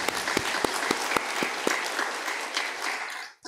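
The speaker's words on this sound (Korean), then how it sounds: "우리 하나님께 감사와 영광의 박수 올려드리겠습니다" Church congregation applauding during a service, a loud sustained round of clapping with a few sharp accents that cuts off at the end.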